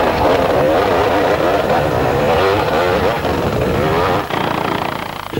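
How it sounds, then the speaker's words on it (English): A helicopter flies over the Roof of Africa off-road motorcycle race, its loud, close rotor and engine drone filling the scene steadily with a brief dip near the end. "Ivory, first time on the Roof of Africa flying the helicopter"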